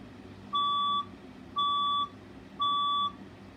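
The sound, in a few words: fire alarm test tone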